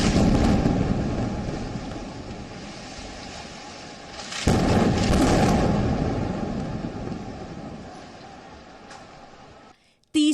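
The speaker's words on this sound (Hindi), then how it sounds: "दूसरा धमाका।" Deep rumbling explosions from an Israeli air strike on Palestine: a sustained roar, then a second sharp blast midway that swells loudly before the noise fades and stops suddenly.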